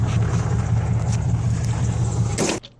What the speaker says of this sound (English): Oh yeah, that truck.